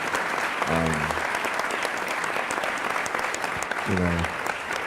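Dense, steady applause from a crowd at a prison reform summit fills the whole stretch, with a couple of brief low voices murmuring underneath.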